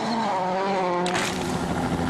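A Citroën DS3 WRC rally car driven by Mikko Hirvonen on a gravel stage of Rally Mexico, its engine droning steadily before a sudden rougher, louder burst of roar and gravel spray that continues to the end.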